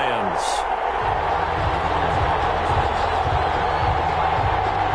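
Stadium crowd in the Madden football video game, 49ers versus Lions, a steady broadband roar that holds loud and unbroken throughout, with a low murmur beneath.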